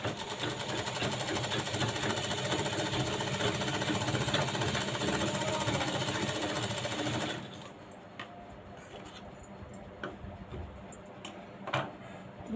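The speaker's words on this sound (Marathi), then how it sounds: "इकडच्याही बाजूला आपल्याला शिलाई करून घ्यायची आहे" A sewing machine stitches a cross strip onto a blouse in a fast, continuous mechanical rattle for about seven seconds, then stops, leaving quiet handling noises and light taps of fabric being moved.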